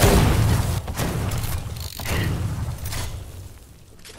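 Boom of a homing missile explosion in Fortnite, followed by rumbling debris and mechanical game sounds that fade over a few seconds, with no talking.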